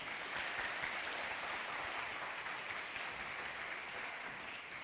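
Steady applause from a large studio audience at a Ramadan iftar television show, dense and sustained clapping filling the whole stretch without a break, fairly distant.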